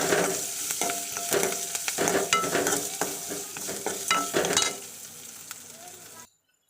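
Close, busy sizzling of onions sautéing, with repeated scraping and clattering stirs of a spatula in a pan, easing off near the end before cutting to silence.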